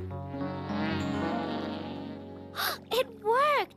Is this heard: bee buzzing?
yes